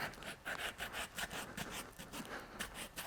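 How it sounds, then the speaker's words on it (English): Rapid back-and-forth sandpaper rubbing on a leather boot, rough scratchy strokes in a steady rhythm, close up with no talking. "Now I'm going to sand the boot."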